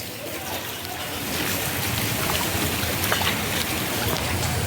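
Heavy rain with rushing, flowing water makes a dense, continuous hiss and gurgle that swells slightly after the first second and holds steady throughout.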